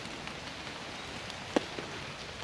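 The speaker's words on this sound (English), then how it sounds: "It's obviously dropping from the leaves now, so not too bad." Rain at a tarp camp in wet UK weather, a steady soft hiss of falling water with scattered drops from the leaves, one sharper drip tapping nearby; constant and fairly faint, no voices.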